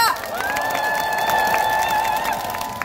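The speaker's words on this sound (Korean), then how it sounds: "힘찬 큰 공연 보여주신 풍물구패 소릿결 대표 김인수 선생님께 한 번 더 큰 박수 부탁드립니다." A street crowd at a Busan rally calling for President Yoon Suk-yeol's impeachment claps and cheers after a pungmul percussion performance; sustained, dense applause with a whistle-like tone and scattered shouts throughout.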